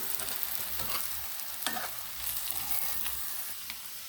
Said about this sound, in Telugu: ఇదంతా బాగా మిక్స్ చేసుకోవాలండి